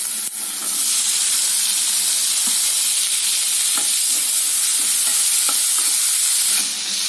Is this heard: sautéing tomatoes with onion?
yes